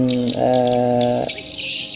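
A swiftlet sound machine plays chirping swiftlet calls, a steady run of bright, close, fairly loud bird-like tones that shift in character partway through, with no talk.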